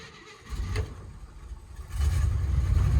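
A 1957 Chevy Bel Air engine starting after sitting for years and running rough, an uneven low rumble that swells and surges louder toward the end, close by and alone without talk.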